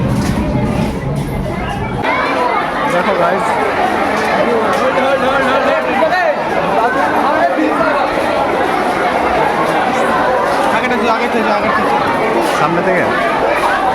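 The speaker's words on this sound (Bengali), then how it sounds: "যে ট্রেনে তো প্রচণ্ড ভিড়" A packed train at a station fills with loud, close crowd chatter throughout, many overlapping voices, while one person speaks near the microphone.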